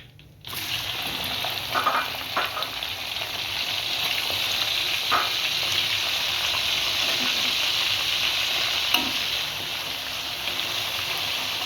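Dried salted fish frying crisp in a pan over a low flame gives a continuous, close sizzle with occasional faint clinks and stirring noises, and no voices are heard.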